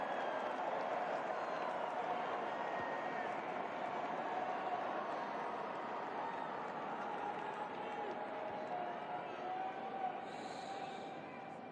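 A large tennis crowd at the US Open semifinal murmurs and gradually settles into a steady, diffuse hum of many voices and shuffling, with no single sound standing out over roughly twelve seconds.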